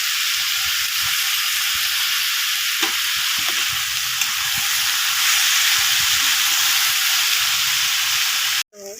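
Potato bhaji seasoned with salt and turmeric fries in a pan, a steady bright sizzle with faint stirring scrapes, cut off abruptly near the end.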